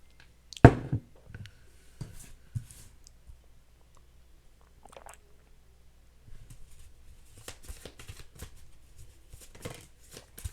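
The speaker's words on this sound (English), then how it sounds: "I'm having a hard time shuffling, first of all." Tarot cards shuffled by hand in irregular, faint riffles and slaps, with one sharp snap near the start and a busier flurry of light card flicks toward the end.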